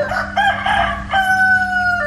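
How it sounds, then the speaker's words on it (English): A cockerel crows in Uluwatu, Bali, two drawn-out calls with a short break between them, fairly close over a low steady hum. "I got woken up at freaking 7:30 by a cockerel"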